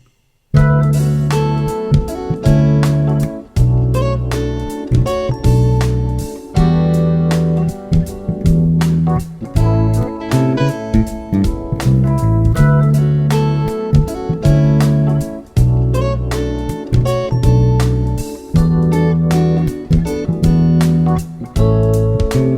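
A plucked bass guitar plays a steady, busy run of notes with a few brief pauses, loud and close, with no voices.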